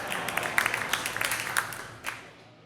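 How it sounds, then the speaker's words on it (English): A comedy club crowd claps at a stand-up headliner's joke, a light, scattered patter of hands with a few sharper claps that thins out and fades near the end. "You can applaud at that one, it's okay."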